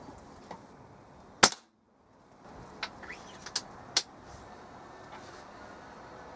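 A single sharp shot from a Weihrauch HW 97 air rifle with a newly replaced spring, a crisp crack followed by brief silence and then a few fainter clicks and taps.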